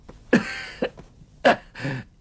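A man with an injured chest coughs several times, in short harsh bursts separated by brief pauses. The coughs are near and alone, with no talk over them.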